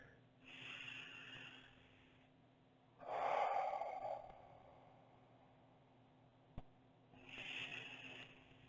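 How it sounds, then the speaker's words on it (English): Slow, deep breathing during a yoga flow, long breathy inhales and exhales spaced a few seconds apart, close and soft over a faint steady hum, with one brief tap in between. "Use that deep breathing."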